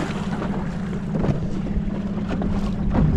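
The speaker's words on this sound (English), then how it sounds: "Wind is a little, it's a little more sporty than I wanted it to be." Wind blowing steadily at a mangrove beach, a continuous broad rushing and buffeting across the microphone with gusts swelling louder toward the end, no voices present.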